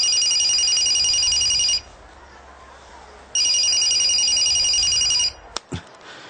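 A telephone rings in two long, loud bursts of a bright electronic trill with a pause between them, then a short clatter as it is picked up.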